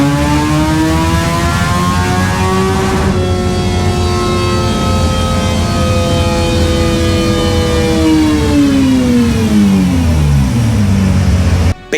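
A Suzuki Hayabusa Gen 3 with an M4 exhaust and Sprint filter revs hard on a dyno, loud and close. The engine climbs in a long rising wail, holds near the top, then winds back down and drops off sharply at the end.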